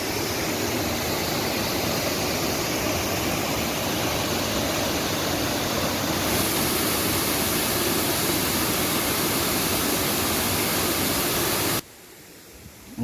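Ghubadi waterfall near Jawhar, with water pouring over a high rock cliff as a steady, dense roar. Loud and continuous, with no voices, before cutting off abruptly near the end.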